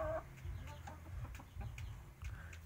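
A Saigon fighting rooster gives soft clucks and short calls close by, spread through a few seconds over faint background noise.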